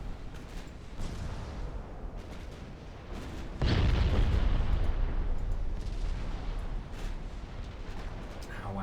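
Naval artillery fire from warships in the game Ultimate Admiral Dreadnoughts, a continuous rumbling barrage of booms that swells sharply louder partway through and stays heavy, with talk running over it.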